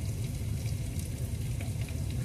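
Minced garlic sizzles in a hot pan with beef short ribs, making a steady, close crackling fry with no voices.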